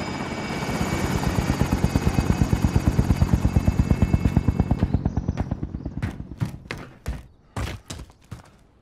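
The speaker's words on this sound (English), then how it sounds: "Helicopter is away." A helicopter in the Call of Duty video game flies off with a loud, rapid rotor chop that holds steady for several seconds, then cuts out, leaving a few scattered thuds.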